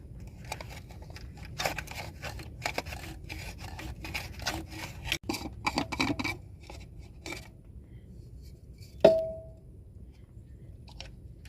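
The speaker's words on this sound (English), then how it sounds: "using the oil filter pliers. Turn it to the left." Irregular scraping, rubbing and gripping sounds as oil filter pliers twist the oil filter off a 2017 Mercedes-Benz GLE 350, with a sharp clink near the end before the work goes quiet.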